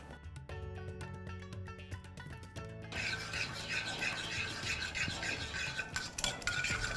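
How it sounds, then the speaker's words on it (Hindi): Curd is whisked in a bowl for a paneer dum biryani marinade, giving a steady, fast scraping swish. It starts after a few seconds of tonal music and carries on alone to the end. "तो इसे अब विस्क कर लेते हैं।"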